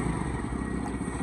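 A Bajaj Pulsar N150 motorcycle engine runs steadily after starting, a continuous close rumble with a slight clattery texture and no talk over it.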